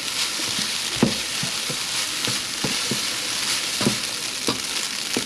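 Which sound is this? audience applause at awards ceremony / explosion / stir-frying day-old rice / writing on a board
stir-frying day-old rice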